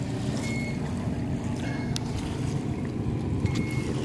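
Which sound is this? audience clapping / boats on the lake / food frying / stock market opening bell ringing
boats on the lake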